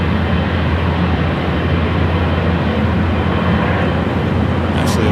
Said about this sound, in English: Air China Cargo, flight 1051, coming from Shanghai. Next heavy arrival on the south.